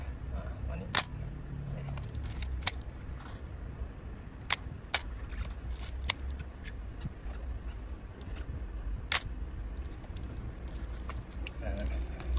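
Shutter firing on a Mamiya ZE Quartz film camera, sharp isolated mechanical clicks at irregular intervals, about eight across the stretch, close and distinct over a low steady background hum.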